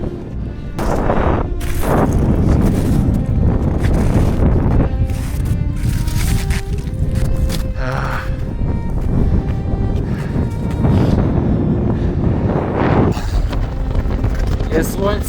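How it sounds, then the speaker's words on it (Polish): Strong cold wind on Mont Blanc in winter roars and buffets the microphone in heavy gusts throughout, with a person talking in between. "Jest słońce, ale też wieje strasznie."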